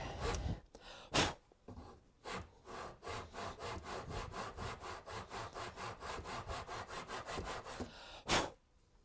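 A hand file is worked along a wooden sword in a steady series of close rasping strokes at an even rhythm, with a few louder scrapes at the start and end and no talking.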